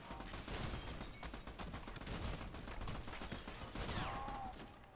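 Shotgun fire and other gunfire crackle in a tense firefight in Army of Two, a dense, steady barrage of rapid shots with a rising whine near the end, heard faint and distant.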